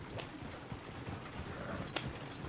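Horse hooves clip-clop in the Red Dead Redemption 2 video game, a soft, fairly distant irregular walking rhythm over a low ambient background, with one sharper knock near the end.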